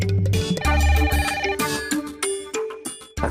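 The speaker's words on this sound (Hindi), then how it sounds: "लगता है इशू का फोन होगा।" A mobile phone ringtone plays a bright, melodic electronic tune in repeated bursts, loud and close, with no one speaking over it.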